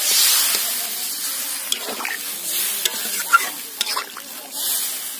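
Water is added to sautéed potatoes in a pan for a Bengali katla fish curry, bringing a hissing sizzle and stirring with sharp utensil scrapes and clinks, close and fairly loud, no voices.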